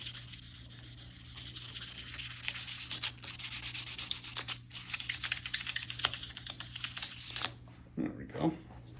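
Light hand sanding of an acoustic guitar's finish with 1000 grit sandpaper, a steady continuous rubbing hiss for most of the clip, close and even, stopping near the end with a brief shuffle after.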